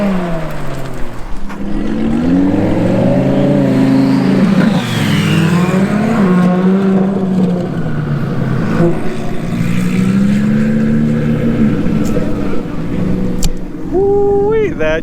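Sports cars, including a LaFerrari, revving at a private car meet: engines growl and rise in pitch continuously close by, overlapping one another under excited talking and shouting from people nearby.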